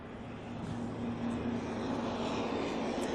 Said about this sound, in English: we do have Malaysian Airlines starting to taxi out